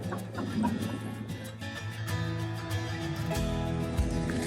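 Chickens cluck and murmur nearby in a garden setting, scattered short clucks over a busy background of steady tonal hum and rustling, continuing for several seconds without speech.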